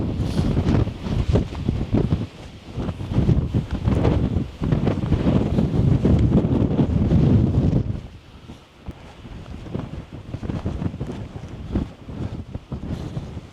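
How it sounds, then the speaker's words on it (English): Strong wind gusts across an exposed mountain crag, roaring and buffeting loudly and close. The rumbling rushes swell and ease in uneven waves, and no voices are heard. "The wind has definitely just slightly changed direction"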